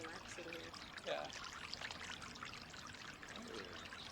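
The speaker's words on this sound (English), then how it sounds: "the waterfalls are nice features" Steady, faint rush of a waterfall water feature at sunset in Palm Springs, an even wash of falling water with soft voices murmuring in the background.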